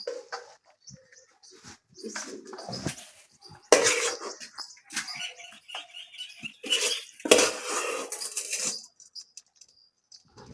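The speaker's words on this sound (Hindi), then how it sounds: "अब जी ने अच्छी तरह मैश करती हूँ, मैश करके फिर बनाती हूँ टिक्की" Cooked lentils and chicken being mashed for shami kabab, a run of irregular soft squelching presses and scraping knocks against a pot or bowl, moderately close, with brief pauses between bursts and no talking.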